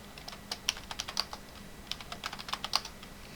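Someone types a short command on a computer keyboard, producing a quick, close series of crisp keystrokes in two brief bursts.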